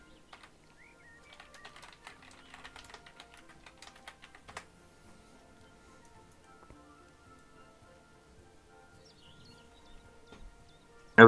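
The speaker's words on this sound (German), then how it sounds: "Boah, heute kann ich nicht mal tippen." Quick, light keystrokes on a computer keyboard in a burst of typing during an online game session, close and fairly quiet, then a sparse tap or two and near silence.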